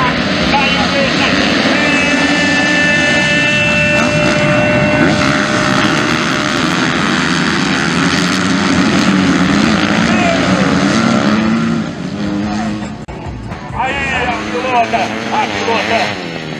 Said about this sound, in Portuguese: ronco dos motores, subiu o ronco dos motores